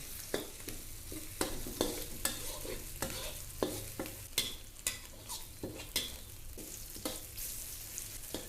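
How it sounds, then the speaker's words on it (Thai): Garlic and soaked dried shiitake mushrooms frying in oil in a wok, with a soft sizzle broken by frequent rhythmic scrapes and clacks of a spatula stirring close by. "เอากระเทียมเอาเห็ดหอมแห้งแช่น้ำนะคะ เอาลงมาเจียวให้หอมเลย"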